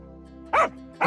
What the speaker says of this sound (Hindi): डॉन तेजी से भागने लगता है तभी वहां पर कुत्ते आ जाते हैं और उसे भूखने लगते हैं।